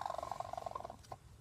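A broody hen makes a rapid, pulsing, purring cluck, a fast run of even beats that trails off before one last soft pulse. It sounds close and fairly quiet.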